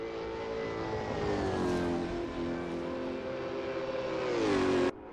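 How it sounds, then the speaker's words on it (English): A damaged Holden V8 race car in a sim racing game, its engine droning loudly with a rough, uneven tone and pitch that dips and climbs as it struggles along, cutting off abruptly near the end. "Oh, that car doesn't sound too healthy"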